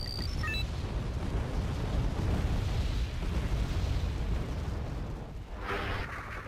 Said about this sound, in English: They seem to not care very much about our mortars.